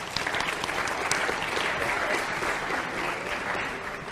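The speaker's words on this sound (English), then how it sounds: "So let's give them a round of applause, all right?" A class of students bursts into sustained, dense applause lasting several seconds, many hands clapping together at close range with a steady roar that holds level throughout.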